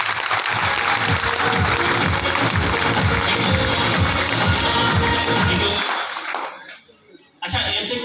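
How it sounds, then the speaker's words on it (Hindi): A hall audience claps loudly in a dense, sustained burst of applause for new members, the clapping going on for about six seconds before fading out, followed by a brief renewed noise. "हमारे नए साथियों के लिए एक बार जोरदार तालियां होंगी।"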